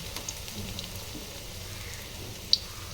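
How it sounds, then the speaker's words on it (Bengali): Bengali leaf fritters (bora) made from whole leaves dipped in gram flour batter fry in hot oil, giving a steady, soft, rain-like sizzle throughout with one small sharp pop near the end. "এইভাবে আমি সব কটা বড়া ভেজে তুলে নেব।"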